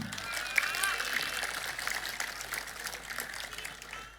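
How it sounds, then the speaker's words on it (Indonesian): Audience applause at a public speech in Cirebon, a steady wash of many hands clapping with a dense, crackling texture that holds evenly throughout at moderate level. "Tepuk tangan."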